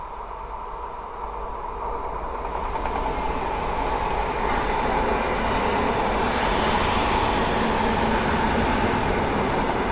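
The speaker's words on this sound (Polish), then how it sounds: "Pociąg z Grodziska do Mińska." At Warszawa Włochy station, a train rolls past with a building rumble of rail wagons and wheel noise that grows louder and stays steady, heard from the platform with no voices.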